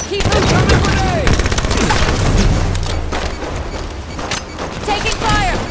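Dense gunfire and grenade blasts in the video game Halo 5 Warzone, loud overlapping bursts of automatic fire and booms with occasional game voice callouts in the mix.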